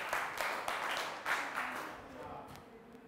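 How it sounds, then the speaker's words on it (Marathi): Applause and clapping from a training-session audience for a group that has just presented, a dense burst of claps that fades over about three seconds. "टाळ्या वाजवा यांच्यासाठी"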